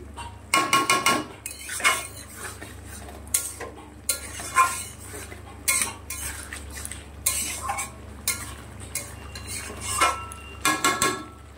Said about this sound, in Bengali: এবারে মশলাটাকে বেশ কিছু সময় কষিয়ে নেব